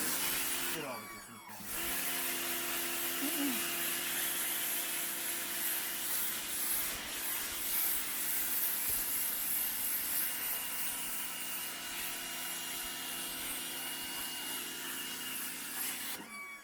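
An Intertool DT 1504 pressure washer runs continuously with a steady, moderately loud hum, its motor shifting pitch in a short transient near the start before settling into a constant drone.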